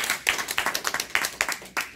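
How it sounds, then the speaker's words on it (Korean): An audience at a Korean lecture on well-aging claps in a brief burst, a dozen or so distinct claps in quick, slightly uneven rhythm, fairly close and without talk. "이 아름다운 모습에는 여러분들이 박수를 한번 보내주세요."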